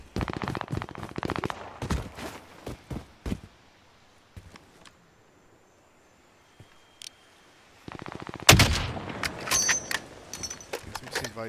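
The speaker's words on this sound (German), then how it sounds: "So weit hört man die Schüsse." Gunfire in the video game Warzone comes as scattered bursts of rapid shots, some faint and distant, with a quiet gap and then a louder flurry near the end.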